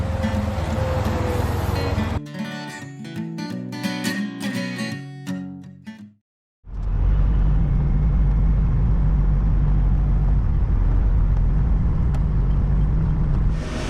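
Truck engine rumbling steadily while driving, a loud continuous low drone that drops out briefly near the middle and then returns as a broad road roar.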